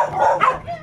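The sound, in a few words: dog barking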